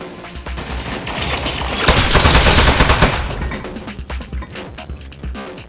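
Turret gunfire in the Aperture Desk Job video game: a dense, loud burst of rapid automatic shots that swells to a peak in the middle, then breaks into scattered rattling impacts.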